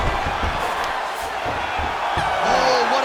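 An MMA arena crowd roars and cheers at the end of a heavyweight tournament semifinal bout between Francis Ngannou and Anatoly Malykhin, a loud, steady wall of noise with shouts and whoops rising near the close.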